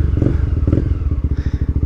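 Honda Twister motorcycle fitted with a G-Moto sport exhaust idling close by, a loud, steady low-pitched chug of rapid exhaust pulses that quicken slightly toward the end, with no talk.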